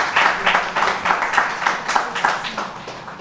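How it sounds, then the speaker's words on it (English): At a National Archives website launch ceremony, a room gives a round of applause: dense, even clapping with a steady pulsing rhythm, moderately loud and close, without speech on top. "Could we give her a round of applause?"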